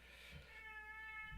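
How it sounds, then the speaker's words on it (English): An elderly 21-year-old female cat gives one faint, drawn-out meow in a quiet room, with a soft thump just after. "That's my cat, by the way."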